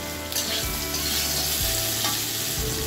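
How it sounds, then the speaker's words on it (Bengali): Pieces of elephant foot yam and potato frying in oil, a steady loud sizzle broken by a few stirring scrapes, with no talk. "আমি একটু ভেজে নিচ্ছি, ওল আলুগুলোকে একটু ভেঙে দিচ্ছি"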